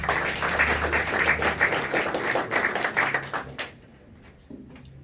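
Applause from a Saline County GOP audience for an Arkansas state representative candidate, a crowd of distinct hand claps close and fairly loud, thinning quickly and stopping before the end, leaving near silence.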